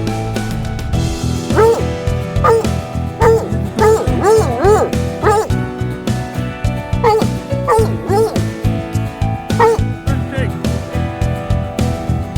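A dog barks and yips repeatedly in short, pitched bursts, clustered in quick runs with brief gaps, fairly close and loud over a steady rhythmic background.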